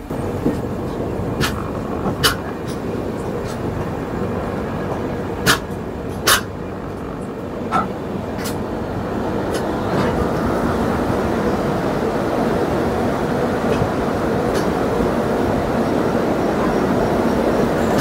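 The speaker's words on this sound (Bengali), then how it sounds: "আমাদের ট্রেন ঢুকছে এখন পুরী রেলওয়ে স্টেশনে" The Kamakhya Puri Express pulls into Puri railway station with a steady, loud rumble of rolling wagons, broken by sharp metallic clanks and clicks over the first ten seconds, then a denser continuous roar.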